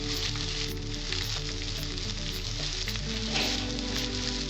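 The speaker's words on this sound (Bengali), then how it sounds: "পেঁয়াজটা আমি লাল লাল করে ভেজে নেব।" Chopped onions frying in oil for mixed fried rice, a continuous close crackling sizzle that holds steady throughout with a faint low hum beneath, no one talking.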